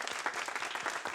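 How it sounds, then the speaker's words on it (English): Audience applause at a talk welcoming a guest speaker, dense continuous clapping from a crowd filling the whole moment at steady loudness. "A round of applause from our"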